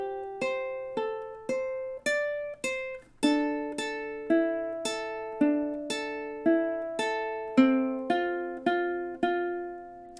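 A ukulele picks the melody of a song, a steady run of about seventeen plucked notes, close and clean with each note ringing briefly, and no voice.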